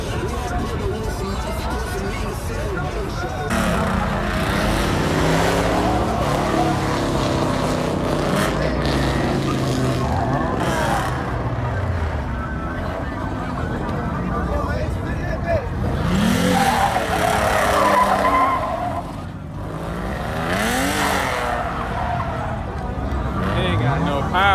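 A lifted truck spins its wheels in a burnout, engine roaring and revving in rising and falling surges for over twenty seconds, loud and close, under continuous chatter and shouting from a nearby crowd.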